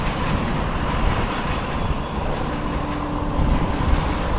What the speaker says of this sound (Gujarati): ये ट्रेन देख सकते हो